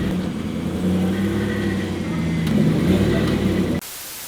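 A Toyota GT86 drift car rolls into a garage, its engine humming and revving gently at close range for about four seconds before cutting off abruptly.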